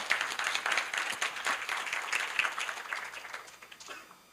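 An audience at a Korea University business school event claps to welcome a guest speaker, a fairly faint, uneven patter of many hands that swells and fades over a few seconds.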